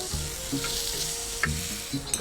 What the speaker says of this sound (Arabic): ونحطوا الخضر تشوى في المقله